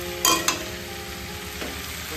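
Fish curry cooking in a pan at home, with two sharp utensil clinks from stirring early on, then a low steady simmer and faint later scrape, nearby and without talk.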